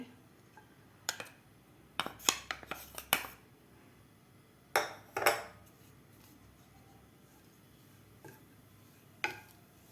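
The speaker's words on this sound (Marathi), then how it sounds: "त्या तुपामध्ये आपल्याला नारळाचा किस परतून घ्यायचा आहे" Grated coconut is stirred and roasted in ghee in a pan over low heat, with scattered clinks and scrapes of a metal spoon against the pan between quiet pauses and no steady sizzle.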